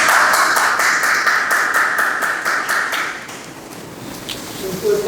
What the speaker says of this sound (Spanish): Un fuerte aplauso le hemos dado al maestro William Mejía Chala